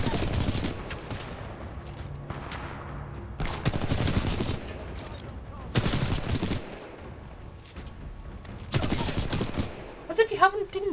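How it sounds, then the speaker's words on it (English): Rapid bursts of automatic gunfire from the Titanfall 2 video game, several loud volleys separated by short pauses, with a brief clatter of sharper effects near the end. "Hear the gunshots just now"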